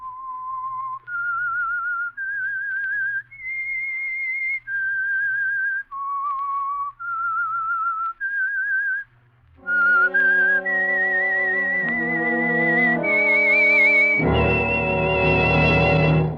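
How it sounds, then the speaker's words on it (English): A clear melodic whistle carries a slow radio theme tune, note by note, then swells into full orchestral music that builds loudly to the end. "That whistle is your signal for the Signal Oil Program"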